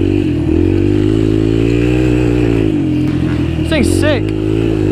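A Raptor 125 engine runs steadily with a loud, continuous motorcycle-style drone, briefly rising in pitch as it revs near the end, while a person talks over it.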